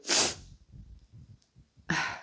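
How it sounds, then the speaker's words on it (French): A person lets out two sneezes, a sharp, loud burst followed by a short stretch of quiet, wheezy breathing and then a second forceful sneeze, close to the microphone with no speech. "Je vais éternuer."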